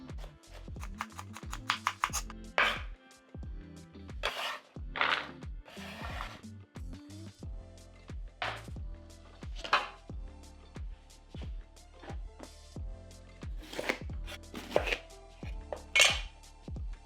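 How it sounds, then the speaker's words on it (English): A knife chops carrots on a cutting board in a home kitchen, making quiet, irregular knocks in short bursts separated by pauses. "Cut the carrots into manageable in size that will cook fast."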